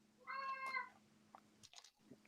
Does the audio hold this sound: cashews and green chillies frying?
no